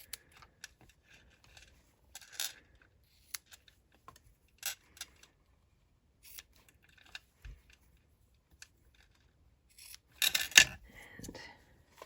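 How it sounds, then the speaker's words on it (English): Scissors trim ribbon ends on a small handmade Christmas gift box, faint scattered snips and light rustles with a louder cluster of cuts near the end, close and quiet. "I'm going to go through and just trim these just a little bit."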